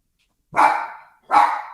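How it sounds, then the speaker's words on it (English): A dog barks twice nearby, two loud sharp barks spaced under a second apart with silence before and between. "My dog is barking."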